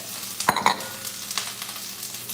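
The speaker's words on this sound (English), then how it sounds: "All right, so I'm gonna start sauteing this up." Onions, bell peppers and a hot pepper sautéing in a pan give a close, steady sizzle, with a few sharp clanks of a utensil on the pan near the start and light stirring scrapes afterward.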